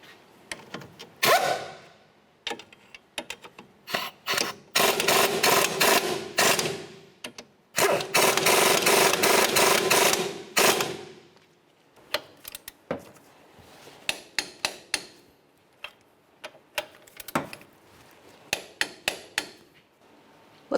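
Ratcheting and clicking on the front strut mounting nuts of a 2005-2010 Chevy Cobalt, with dense bursts of rapid ratchet spinning broken by sharp metallic taps and clanks, close up, no talk.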